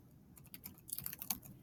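Quick, light keystrokes on a computer keyboard, a short run of close clicks picking up pace toward the end, with no voices.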